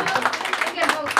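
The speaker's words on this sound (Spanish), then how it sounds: "Pero animémoslo con un aplauso" Audience clapping at a birthday celebration with a youth mariachi band, a brief burst of uneven hand claps, fairly close, with voices mixed in.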